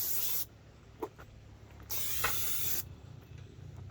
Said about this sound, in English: we're just going to spray her down, make sure she's clean,